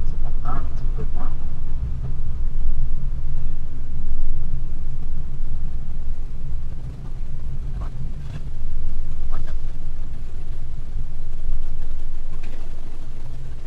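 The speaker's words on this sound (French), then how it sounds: "je vais me remettre en standard, accélération standard" A Tesla Model S Plaid or Model Y Long Range pulls away in standard acceleration mode, heard as a steady low rumble with road and wind noise, with no speech over it.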